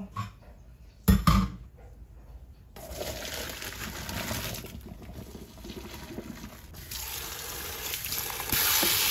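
Boiled noodles for Chinese black lo mein poured out to drain, starting with a sharp clunk of a pot, then a rushing splash of water falling into a sink that swells and continues steadily, close by.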